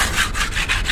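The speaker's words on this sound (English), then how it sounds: "So he's sanding it down good" Hand sanding on a VW Kombi body being prepared for painting, close rhythmic back-and-forth scraping strokes, about five passes in quick succession with no talk.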